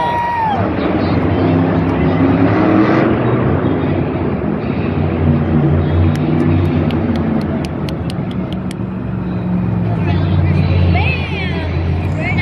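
Todd LeDuc's monster truck rumbling through a freestyle slap wheelie at Monster Jam in Minneapolis, a low, throbbing engine roar under loud arena crowd noise and a commentator's voice.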